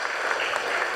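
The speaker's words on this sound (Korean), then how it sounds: "따뜻한 환영의 박수 한번 해주시기 바랍니다" A church congregation claps warmly at a Sunday service to welcome a newly registered member, a steady, even patter of many hands at moderate distance.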